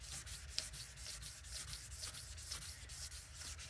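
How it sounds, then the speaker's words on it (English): Sandpaper rubbing back and forth over a fogged car headlamp lens, a steady close rhythmic scratching with regular strokes, fairly soft and with no talking. "you'll feel it getting slicker and less resistant underneath your sandpaper here as we go."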